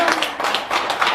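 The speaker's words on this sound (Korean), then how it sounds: "그럼 박수 한번 쳐주세요." Listeners at a Buddhist teaching session clap their hands, a brief run of evenly spaced claps at moderate loudness.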